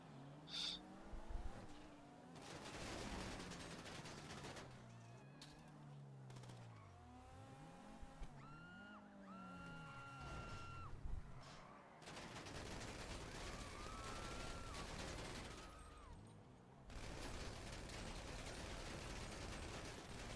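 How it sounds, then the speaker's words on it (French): Gunfire aimed at a Kurama car in GTA V, heard as bursts of shots mixed with mechanical clatter and engine noise, steady and fairly loud across the whole stretch with no talking. "tirer sur une Kurama, c'est pas simple"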